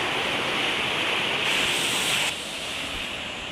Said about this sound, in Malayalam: നല്ല വെള്ളം മാലയിൽ നിന്ന് വരുന്ന വെള്ളം